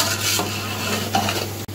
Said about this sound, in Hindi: इसे हमने भून लेना है 15 से 20 मिनट के लिए तेज आंच पर।